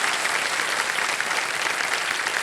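A studio audience claps for a contestant on the Kaun Banega Crorepati quiz show, a loud, dense, even burst of applause that keeps going without pause.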